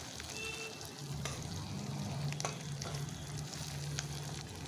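Steady sizzling of a frying pan of rohu fish cooked in spices, continuing alone throughout with some stirring as lentils go in.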